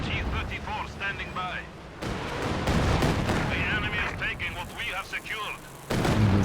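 Artillery barrage in a competitive multiplayer war game match, dense rumbling booms and crackling blasts rolling continuously with a heavy burst near the end, heard under steady talk.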